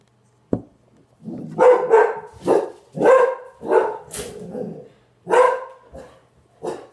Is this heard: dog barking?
yes